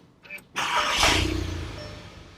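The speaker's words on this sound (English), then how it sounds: "I'm going to start the car." A 2015 VW Golf GTI engine cranks and catches after a brief click, then settles into a steady idle that slowly quiets, heard close by.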